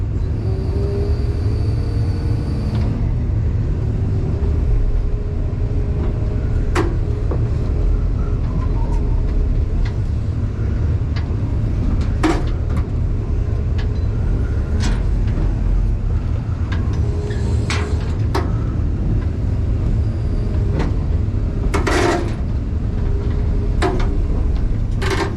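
M818 military truck driving through mud, a loud, steady low engine rumble held close throughout, with scattered clanks and knocks from the vehicle and no talking.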